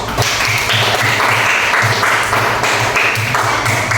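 Classmates in a sixth-grade school group clap for the cat team after its presentation, a loud, continuous burst of hand clapping filling the whole stretch with a few voices underneath.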